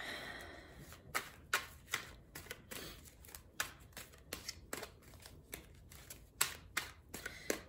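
Tarot cards being shuffled by hand in a series of quick crisp riffles and slaps, irregular bursts close up with quiet gaps between.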